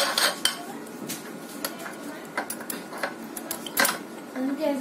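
Metal clinks and clatter as a perforated metal mesh plate is fitted onto a meat grinder, sharp close knocks scattered over a few seconds with low background noise.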